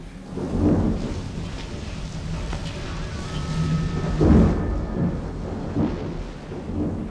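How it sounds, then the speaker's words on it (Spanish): Thunder rumbles through a steady rainstorm, one heavy roll swelling near the middle over continuous broadband rain noise, with lighter rumbles before and after; no voices. "y se escuchaba la descarga del rayo."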